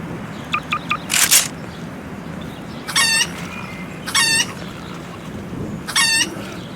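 A chicken-launcher weapon in a zombie video game fires with sharp bursts while cartoon chickens cluck and squawk in stacked, repeated calls, loud and close, spaced over a steady low background hum.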